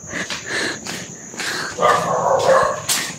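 A dog barks several times at a distance near a cemetery, the barks short and uneven, over a steady high insect-like hum.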